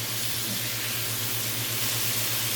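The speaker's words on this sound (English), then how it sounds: "We're gonna saute this" Vegetables sautéing in a pan before hamburger meat goes in, giving a steady, dense hiss and sizzle that runs unbroken over a low electrical hum, with no voices.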